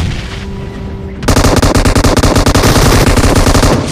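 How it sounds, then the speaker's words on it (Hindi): Groza assault rifle fire in the mobile shooter BGMI: after a quiet moment, sustained rapid automatic bursts burst in loud and close, hammering steadily to the end. "मैं इधर से थोड़ी बहुत ग्रोजा चला देता हूँ"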